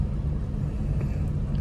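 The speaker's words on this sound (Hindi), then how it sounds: "ठीक है ये चलाई जा रही है गाड़ी" A 2009 Hindustan Motors Ambassador car being driven gives a steady low engine hum and road rumble, close and continuous, with no talking.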